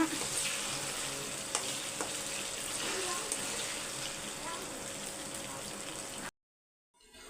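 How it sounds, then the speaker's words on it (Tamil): Mushrooms coated in gram flour and rice flour batter fry in oil and are gently turned. A dense, constant sizzle sounds close for about six seconds, then cuts to silence. "இப்போ பொறிட்டோம் இப்போ வந்து மெதுவாக அப்படியே திருப்பி விட்டுக்கோங்க"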